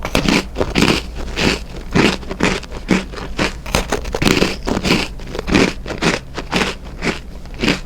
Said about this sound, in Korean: 오도독 바삭하게 씹히는 것 같아요